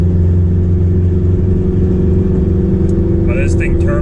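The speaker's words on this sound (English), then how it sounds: "Can hear my car" A turbocharged Acura TSX engine runs cold, holding a steady, loud mid-pitched drone with no rise in revs, while a few faint short chirps come in near the end.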